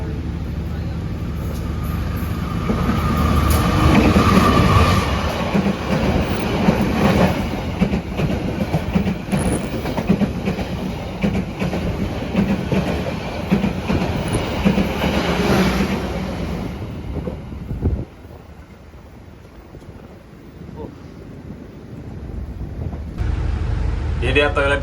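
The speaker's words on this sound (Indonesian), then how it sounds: "kereta api Logawa yang akan melintas langsung di stasiun" The Logawa passenger train rumbles loudly past at close range through Jatiroto station without stopping, wheels clattering rhythmically, then the roar fades away as voices talk quietly nearby.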